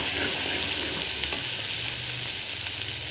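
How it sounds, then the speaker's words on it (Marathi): Masala sizzles and fries in hot oil with curry leaves for a spicy sev bhaji, a steady close crackling hiss filling the whole stretch. "या मसाल्याला तेल सुटेपर्यंत फ्राय करूया।"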